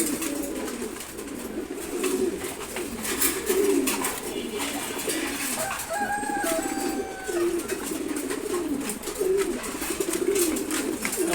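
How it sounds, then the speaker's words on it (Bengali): A flock of pigeons on a farm keeps up a continuous, layered cooing, close and moderately loud, with a few brighter chirps and rustles mixed in and no talking. "এখানে সুন্দর এক কবুতর আছে"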